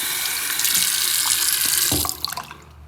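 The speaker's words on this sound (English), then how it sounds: "I really should rinse this off again" Water from a tap rushes steadily as Magic trading cards are rinsed at a sink, loud and close for about two seconds before the flow cuts off, leaving a few drips and splashes.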